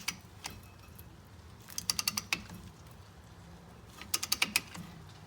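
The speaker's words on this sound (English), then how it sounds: "what I'm going to do is I'm going to put my tool and check the resistance when winding the piston back in." A hand tool winds a Honda Civic brake caliper piston back in, giving two quick bursts of sharp ratcheting clicks close up, separated by quiet pauses.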